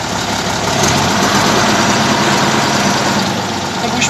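Deutz 8006 tractor engine pulling away in low gear during log skidding, a steady loud diesel drone with a deep low rumble that holds constant throughout, close by with no voices.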